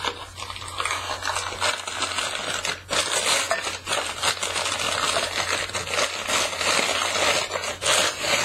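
Thrift store glassware, including frosted blue crinkle glass, being unwrapped from heavy packing: steady close crinkling and rustling of wrapping with soft rubs and small clinks throughout, no talk.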